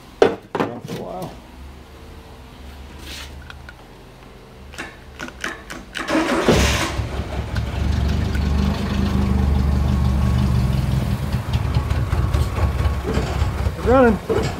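A Renault R5 Le Car engine catches and settles into a rough, loud idle that runs steadily through the second half, after a few sputters and clunks.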